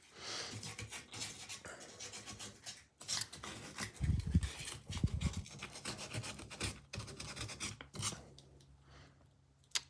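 Fine 320 grit sandpaper rubs a wood carving in short, uneven scratchy strokes close by, some passages heavier and rougher, with brief pauses between strokes.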